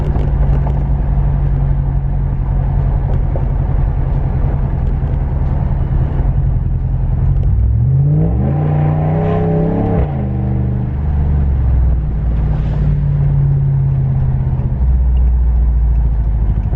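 A Hemi 5.7L pickup truck's loud exhaust rumbles steadily while cruising, then revs up hard in a rising, surging burst before settling back to a deep drone.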